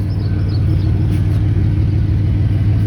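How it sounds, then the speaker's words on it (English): A 1992 Chevy engine with a big exhaust leak idles in a steady, loud, low rumbling drone heard up close, with no voices. "there's one major thing I don't like, and that is it has a big exhaust leak"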